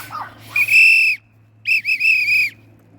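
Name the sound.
whistle blown to call a dog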